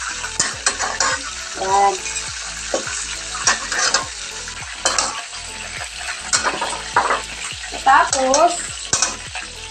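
Hot oil spatters and crackles in a pan while adobo cooks, with repeated scraping stirs and a voice talking between bursts.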